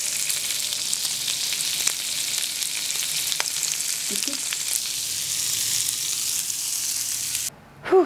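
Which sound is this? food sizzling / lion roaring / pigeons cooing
food sizzling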